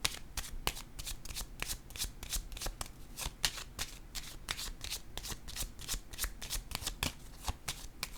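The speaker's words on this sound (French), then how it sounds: "Je vais déposer une carte sur la justice maintenant." Tarot cards are shuffled, a long run of rapid, close, crisp riffling flicks and slaps with quick irregular rhythm, quiet overall with no talking.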